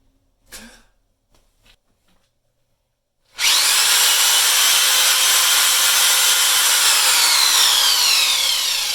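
Power drill whirring loudly and continuously after a short quiet stretch with faint sounds, running alone at a steady high pitch.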